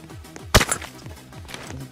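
An airsoft gun fires once in an indoor killhouse during a skirmish, a single sharp, close crack over a low background murmur.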